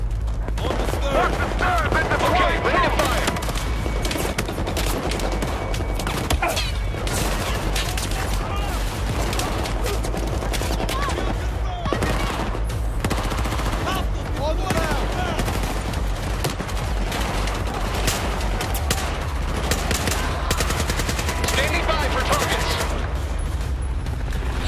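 Battlefield 4 gunfire: dense, sustained automatic bursts and booming shots in a crowded battle, continuous and loud throughout with voices shouting over it.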